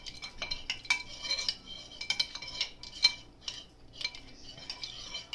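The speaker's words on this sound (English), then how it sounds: "Okay, now we stir it." A spoon clinks and scrapes against the inside of a glass or cup while a drink with ice is stirred, giving irregular bright metallic taps close up with no talking.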